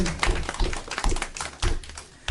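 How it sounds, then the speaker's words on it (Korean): A church youth-service congregation claps together, a dense crackle of many hands with louder bursts rising and falling over a couple of seconds. "오늘도 우리와 함께 하신 하나님께 영광의 박수를 드립시다"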